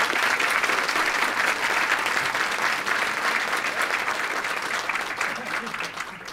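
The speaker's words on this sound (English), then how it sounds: "I'd ask you to give them a round of applause." Sustained audience applause for candidates at a 2015 leaders debate on education, a dense, steady clapping from a crowd that holds loud throughout and eases slightly toward the end.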